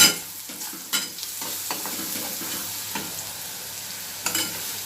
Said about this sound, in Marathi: हे सर्व मिक्स करून घेऊया आपण